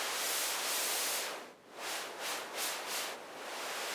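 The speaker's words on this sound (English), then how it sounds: "I have the oscillators bypassed. I don't want tone, don't want pitch. I only want the white noise." White noise from a synthesizer with its oscillators bypassed, a steady bright hiss that holds level, then dips and swells in several pulsing bursts as its colour is shaped, cutting off abruptly at the end.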